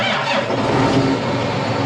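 A John Deere tractor engine runs rough and loud right beside the listener, a dense, steady mechanical roar through the short stretch with no talking.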